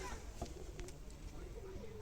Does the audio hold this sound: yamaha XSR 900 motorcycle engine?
no